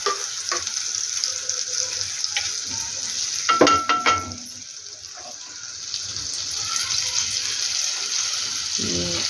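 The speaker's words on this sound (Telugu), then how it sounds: "ఈ మిశ్రమాన్ని వేయంగానే ఇలా పొంగేటట్టు ఆయిల్ మంచిగా మసలాలన్నమాట" A spice mixture is poured into hot oil and hisses and bubbles up in a sharp burst, then settles into a steady, lively sizzle.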